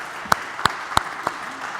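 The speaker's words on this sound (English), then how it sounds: "a round of applause then, sure." A few slow, isolated hand claps in a Harvard CS50 lecture hall, four sharp single claps evenly spaced over a second and a half against a quiet room hum rather than full audience applause.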